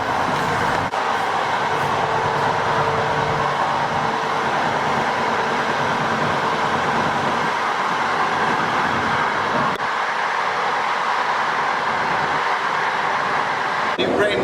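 A noisy passenger train running from Poland to Ukraine gives off a loud, steady rumble and rattle that fills the whole stretch without letup, with a couple of brief sharper knocks.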